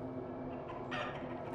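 Chickens clucking inside a coop in the horror survival game Darkwood, a low, steady murmur of soft fowl calls with a slightly louder burst near the end, no voices.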